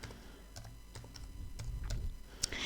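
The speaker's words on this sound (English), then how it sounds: "let me just type it" Sparse, light keystrokes on a computer keyboard, several separate soft clicks spread out at an unhurried pace over a quiet room background.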